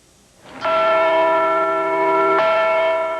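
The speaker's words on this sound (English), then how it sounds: "The Iowa Liberty Bell rang in honor of the birthday of Martin Luther King Jr." The Iowa Liberty Bell rings out in a single loud, clear strike with a long sustained hum, then a second strike begins near the end, heard alone and close.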